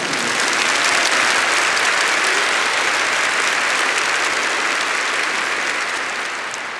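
Sustained applause from a church congregation, a steady dense wash of clapping held at an even level for several seconds before easing slightly at the end, with no speech over it.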